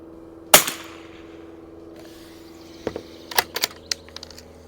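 An early-production Winchester 52 rifle fires a single sharp shot at an outdoor range at 25 yards, followed a few seconds later by a cluster of lighter mechanical clicks and clacks.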